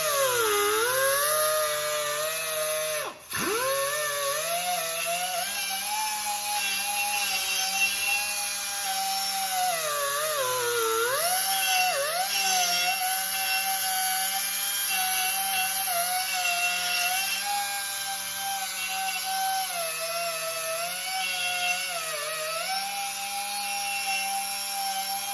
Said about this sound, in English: So this is just a wire brush on a die grinder, nothing special.